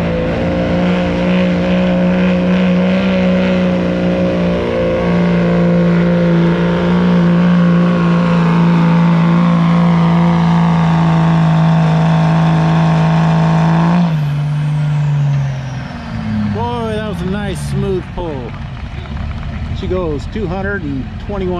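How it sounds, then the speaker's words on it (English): A Dodge Cummins diesel pickup drags a sled at a spring truck pull in Lynden, Washington, its engine roaring loud and steady for about fourteen seconds before dropping off, then sputtering in short bursts while an announcer talks over the noise. "we got another Dodge Cummins coming up"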